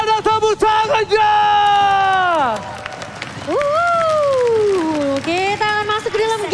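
A crowd at an MPL Indonesia esports playoff match, Bigetron Alpha versus Aura Fire, claps and cheers under a loud, drawn-out shouting voice that rises and falls in long whoops.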